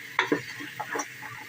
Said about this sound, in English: So we are frying them.